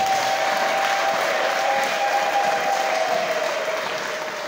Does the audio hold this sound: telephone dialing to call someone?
no